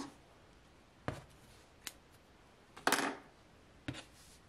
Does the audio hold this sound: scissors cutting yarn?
yes